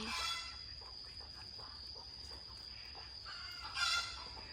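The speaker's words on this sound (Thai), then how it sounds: "เสียงไก่" A chicken clucks and briefly crows at a distance over a steady high insect-like drone, with faint outdoor background and no speech.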